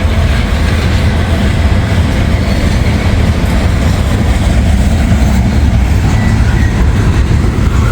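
A Norfolk Southern train rolls past close by in a continuous loud rumble, with steady rail clatter and wheel noise throughout and no voices.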